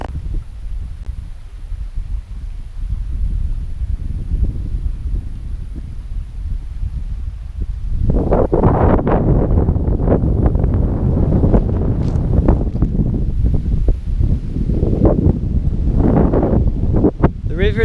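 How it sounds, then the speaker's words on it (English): Strong wind gusts by the St Johns River in Florida buffet the microphone with low roaring rumble, moderate at first and then much louder and harsher from about halfway on, with continuous blustery surges. "I don't know if I'll be able to talk because it's so windy"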